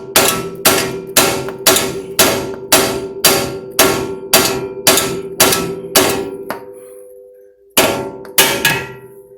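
Loud, evenly spaced metallic clangs of a hammer striking a steel tie rod on a 1993 Honda Civic, about a dozen blows with ringing decay, a brief pause, then a few more hits.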